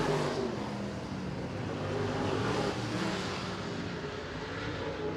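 Late model race cars roaring three wide down the back straightaway at Merritt Speedway, a dense steady engine drone with layered revving, heard from a distance without a clear pass-by.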